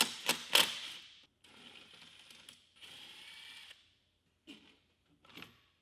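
A socket wrench ratchets as bolts are loosened to remove the rear wheels of a snowmobile for a bogie wheel install, coming in short mechanical bursts of clicking with pauses between them, close up and with no talk.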